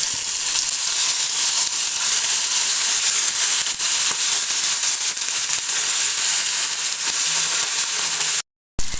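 Loud, continuous sizzling of silverbelly fish frying in hot oil, crackling close up with no voices, cutting out briefly near the end.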